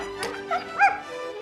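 Dogs give a few short, close yips and whimpers, with one louder yelp in the middle, against a quiet background.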